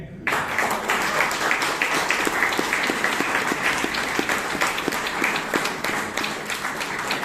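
Audience applause at a Toastmasters club meeting in Bangalore, steady clapping from a modest room crowd with individual claps standing out, starting abruptly and running evenly before easing slightly near the end.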